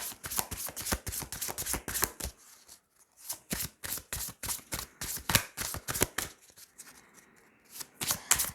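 Tarot cards being shuffled and drawn by hand, a close, crisp run of riffling flicks and slaps with a short pause partway through, soft and without talk.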